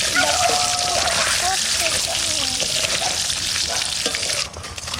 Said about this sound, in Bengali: ডিম ভাজা চাপাইছি, ডিমে কিরকম ফেনা হয়ে গেছে